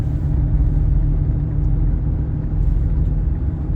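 A 2005 Chevy Avalanche drives on the road, heard as a loud, steady low rumble of engine and road noise that continues without a break.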